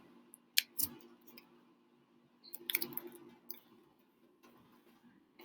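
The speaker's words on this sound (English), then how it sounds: "So I'm going to click this first one here." Computer mouse clicks, a few sharp, close, quiet taps spaced apart in an otherwise near-silent room.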